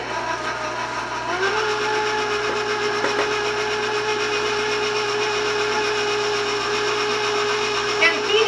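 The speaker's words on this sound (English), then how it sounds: "I'm going to turn my mixer on" An electric stand mixer runs steadily at close range as flour is slowly added for Italian lemon anginetti cookie dough, giving a constant motor whine with a few soft clicks and bumps on top and no talking.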